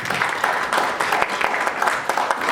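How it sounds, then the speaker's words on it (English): Audience applause at a political summit, a steady wash of many hands clapping that fills the room continuously with no pauses. "Another round of applause, please."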